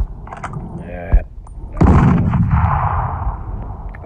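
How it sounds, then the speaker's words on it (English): A grenade blast in the mobile shooter Modern Strike: a sharp, loud explosion lands partway through and is followed by a long rumbling tail, with game sounds and a muffled thump just before it. "hit the targets with a grenade"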